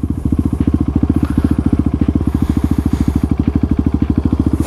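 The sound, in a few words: motorcycle riding past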